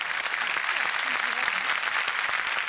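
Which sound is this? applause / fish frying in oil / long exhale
applause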